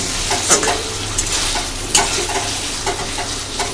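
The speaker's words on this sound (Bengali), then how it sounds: "ঢাকনা চাপা দিয়ে রান্না করার পর আমরা এটা একবার খুলে নাড়িয়ে নেব" Fish curry with potatoes and stem vegetables is stirred in an uncovered pot, a spoon scraping and knocking against the sides in repeated strokes over a low, steady sizzle.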